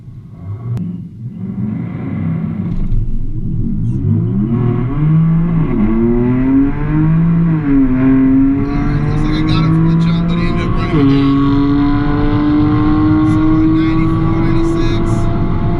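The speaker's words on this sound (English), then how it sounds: "looks like I'm racing a BMW M3" On a quarter-mile drag strip, a 55,000-mile Tesla Model 3 races a BMW M3, with a loud, close engine roar climbing in pitch through several gear shifts over a continuous rumble.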